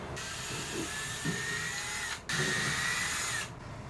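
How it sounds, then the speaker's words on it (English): A power drill fitted with a countersink bit whines steadily for several seconds while drilling into wood, briefly stopping once before starting up again, with a high, continuous motor drone. "now I'm going to take a countersink jig, or drill bit, whatever, and then put it in here"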